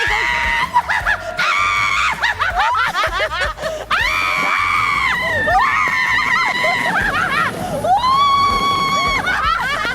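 Riders scream loudly and continuously on a roller coaster at an amusement center, high shrieks rising and falling in long bursts with some laughter mixed in, filling the whole ride.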